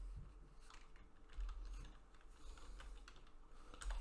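Python code typed on a computer keyboard, a run of soft, fairly quick key clicks close by with low background hum and no voice.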